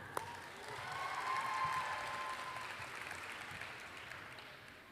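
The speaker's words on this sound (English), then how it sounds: "Give it up, big round of applause for Yuna." Audience applause for a storyteller at an evening live storytelling event at UMass Amherst, steady clapping from a sizeable crowd that swells and then slowly fades, heard alone without talk.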